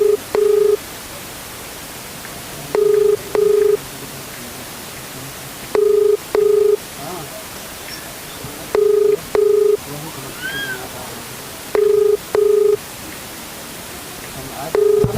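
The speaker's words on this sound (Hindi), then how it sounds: "घंटी जा रही।" A phone ringback tone repeats in regular double pulses every few seconds, steady and clear, with low background noise between rings.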